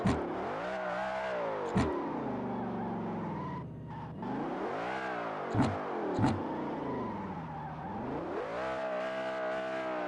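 A modified BMW M5 E60 drifts in the mobile racing game Assetto Corsa Mobile, its engine revving up and down in long sweeping waves, with a few sharp tire-skid bursts.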